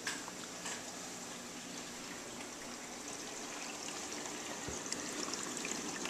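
Water from a Life Reef overflow on a reef aquarium drains down into the sump below, a steady, soft, continuous trickling and gurgling heard close up and alone.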